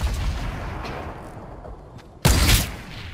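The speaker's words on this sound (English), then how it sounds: "I think he's shooting at you." Fortnite battle royale gunfire: a single loud, close shot bursts out after a stretch of quieter in-game ambience, its echo trailing off.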